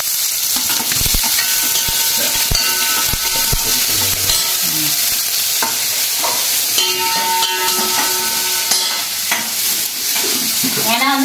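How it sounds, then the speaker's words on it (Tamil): Garlic and onion sautéing in a pan for a carrot stir-fry, sizzling loudly and steadily while a spoon stirs and scrapes throughout. "இந்த பக்கம் வந்து கேரட் பொரியலுக்கு பூண்டு வெங்காயம் அந்த கரண்டி எடுத்து கொஞ்சம் வதக்குங்க"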